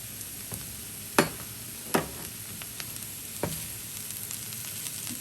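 Potatoes and onions sizzle steadily in a pan for a Bengali tuna fish dish, with a constant hiss and a few sharp spatter pops. A spoon clinks against the pan now and then.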